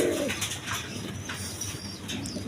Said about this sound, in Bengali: এখানে এক পেয়ার আউল শাটিং কবুতর আছে